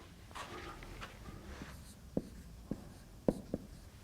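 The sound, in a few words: writing on a board during a lecture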